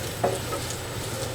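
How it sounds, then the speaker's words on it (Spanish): Onion softening in a frying pan, a soft continuous sizzle with one brief stir near the start, close and quiet, no talk. "se está friendo la cebolla"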